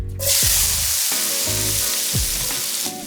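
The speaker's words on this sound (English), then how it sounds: "we immediately add the minced onion to the hot guanciale grease" Minced onion hits hot guanciale grease in a pan and bursts into a loud, steady sizzle right up close. The hiss holds strong for a few seconds, with faint clinks and a little music underneath.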